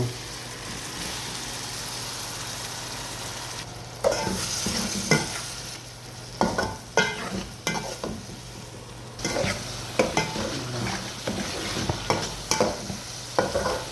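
Tomato frying in a pan while being stirred for an Arabic dish: a steady sizzle throughout, joined by repeated scraping and clinking utensil strokes in the second half, close and fairly loud, no talking.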